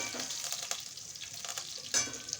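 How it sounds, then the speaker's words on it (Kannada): Onions and curry leaves frying in a pan give a soft, low sizzle, with a light clink or scrape of stirring now and then. "ಒಂದು ಸ್ವಲ್ಪ ಕರಿಬೇವು ಸೇರಿಸ್ಕೊಂಡು ಅದನ್ನು ಒಂದು ಸ್ವಲ್ಪ ಫ್ರೈ ಮಾಡಿಕೊಂಡು"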